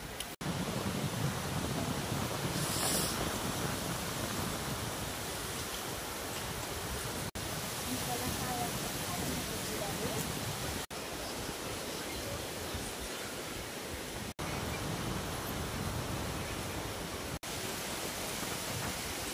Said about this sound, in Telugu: చల్లగా గాలి,